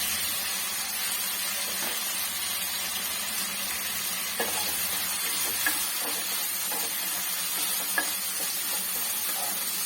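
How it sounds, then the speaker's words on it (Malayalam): Chopped onions sizzling in hot oil, a dense steady hiss throughout with a few faint stirring scrapes and light taps, close up and without speech. "ഇനി നമുക്കിതിനകത്തോട്ട് 2 സവാള അരിഞ്ഞതിടാം. എണ്ണയ്ക്കകത്തോട്ട്"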